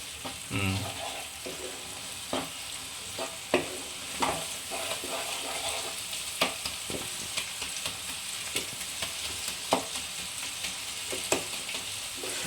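Egg stirred into spices in a hot frying pan for dhaba-style egg tadka: a continuous close sizzle broken by repeated sharp scrapes and taps of a spatula at irregular intervals, with no talking.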